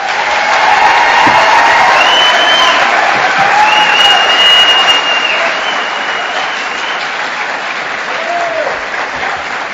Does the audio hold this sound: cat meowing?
no